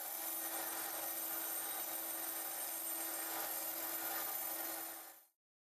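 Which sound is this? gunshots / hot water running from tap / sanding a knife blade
sanding a knife blade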